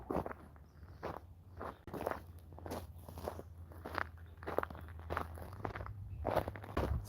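Footsteps crunch on a gritty walkway, a steady walking rhythm of soft crunches, fairly quiet and close, with a low hum underneath.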